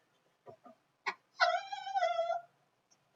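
A dog lets out a single drawn-out, whiny moan close by in a quiet room, preceded by a few small snuffling sounds.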